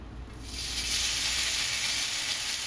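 Smoked bacon sizzles in a hot wok for Taiwanese-style cabbage: a bright, steady frying hiss that swells after a soft start and holds close and even throughout.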